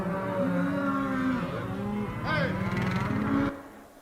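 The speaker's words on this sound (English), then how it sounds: "It was a cattle drive in our yard." Cattle on a drive pass through a rural yard, with several long, overlapping moos and lows from the herd, fairly close and loud, and no talk.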